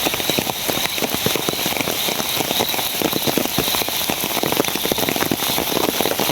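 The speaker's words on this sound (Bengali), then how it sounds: "প্রচুর বৃষ্টি।" A heavy downpour roars without letup, thick with close, rapid raindrop patter drumming on surfaces; no one speaks.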